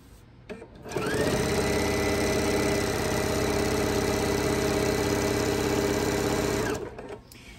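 A sewing machine runs steadily while binding a quilt, a loud close mechanical whir with a buzzing rattle that starts up after a few faint clicks, holds an even pace for several seconds, then winds down.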